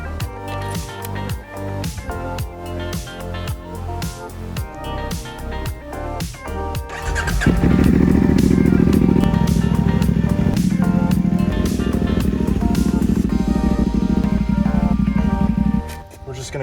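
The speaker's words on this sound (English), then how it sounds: "let it idle for a few minutes just to get the new oil running through the engine" A CFMOTO 450SS motorcycle engine idles after a fresh oil change, a steady close engine drone that swells louder about midway through and holds until near the end, with mechanical clatter before it.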